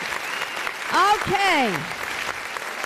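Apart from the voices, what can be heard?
applause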